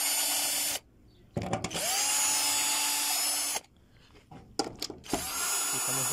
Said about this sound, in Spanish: Vamos a empezar a quitar los tornillos del dispensador del jabón.